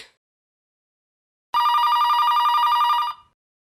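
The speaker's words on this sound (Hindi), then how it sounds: "मॉम, आपके लिए फोन है।" An indoor telephone gives one bright, rapidly trilling electronic ring lasting under two seconds after a brief silence, loud and close.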